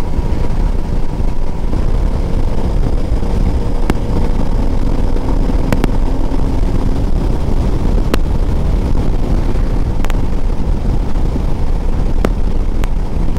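A Royal Enfield Meteor 350 cruises along a highway at speed, its engine a loud, continuous drone blended with heavy wind rush, with a few sharp clicks or knocks scattered through.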